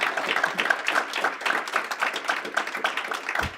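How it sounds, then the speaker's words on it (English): A crowd claps steadily in dense, continuous applause for a few seconds, loud and close. "Round of applause."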